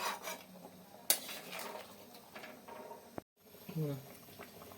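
Lentil fritter curry gravy simmers in a pot, a quiet bubbling with soft scraping and rubbing sounds. One sharp clink and a brief hush break it up.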